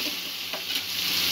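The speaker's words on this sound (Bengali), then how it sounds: "মশলাটা এইভাবে নাড়া দিতে হবে যাতে মশলাটা পুড়ে না যায়" Masala paste frying in a pan is stirred continuously as oil begins to separate, producing a dense, close sizzle with faint scraping, steady and alone without talk.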